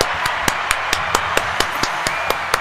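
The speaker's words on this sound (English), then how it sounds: "Round of applause." Slow, scattered hand claps from a small group at a Cowboys football gathering, about a dozen distinct sharp claps spaced roughly evenly, close and moderately loud, with no voices over them.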